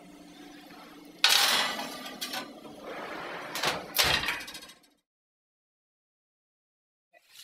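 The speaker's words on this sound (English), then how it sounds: "we're just going to put it in the oven for about 30 minutes" An oven door is opened, a greased 8x8 pan clinks onto the rack and the door closes with a clunk, a few close kitchen knocks with a brief voice underneath, then silence.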